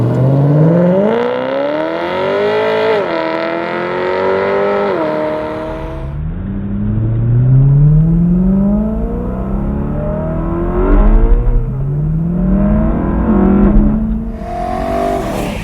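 A BMW M3 convertible with blacked-out bonnet vents accelerates hard with the roof down, its engine note climbing steeply through the gears, each rising sweep cut by a brief dip at the shift, loud and close throughout with no talking.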